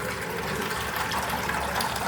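Water pours steadily into a bowl for a pet, making a close, continuous splashing rush that lasts the whole moment with no talk.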